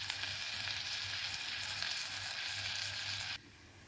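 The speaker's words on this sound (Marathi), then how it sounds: "मस्त असे आपण फोडणीमध्ये हे दोडके परतून घेणार आहोत" Chopped ridge gourd sautéing in hot tempering oil, a steady, close, broadband sizzle that holds evenly and then drops sharply in level near the end, with no voices.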